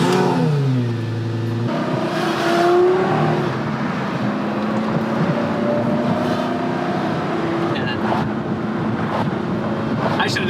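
A modified car drives with a mid-pitched engine that revs and accelerates, close and fairly loud, mixed with wind buffeting, and a voice talks briefly at times.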